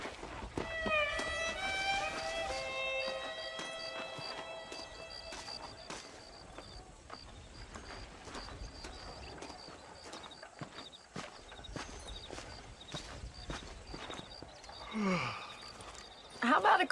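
Horse hooves clip-clop in a steady walking rhythm in the Red Dead Redemption western video game, fairly quiet under game music tones and ambience, with a few brief rustles near the end.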